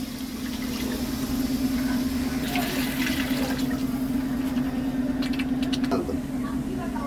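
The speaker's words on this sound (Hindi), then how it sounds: "तो मुझे ज़्यादा ग्रेवी चाहिए तो मैं 2 गिलास पानी डालूँगा।" About three glasses of water are poured into egg curry gravy in a pan, a steady gushing, splashing flow running close and continuous, with faint kitchen clatter near the end.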